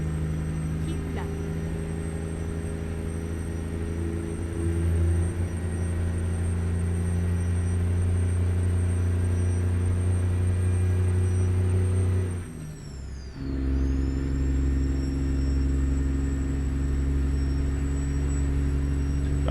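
A heavily loaded Freightliner Argosy with a 700 hp Caterpillar engine drones steadily in a truck-driving video game, a deep constant rumble with a whining tone, briefly dipping as if shifting gears before resuming.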